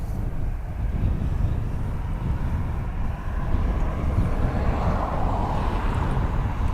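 Steady low roar of aircraft engines at Dublin Airport, a continuous rumble with wind buffeting the microphone, swelling slightly toward the end, no talk.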